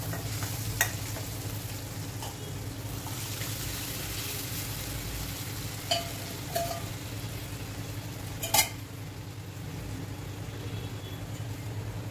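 Dal being stirred into a brinjal mixture in a pan, giving a steady low simmering hiss with a few sharp clinks of a spoon against the pan, close and continuous.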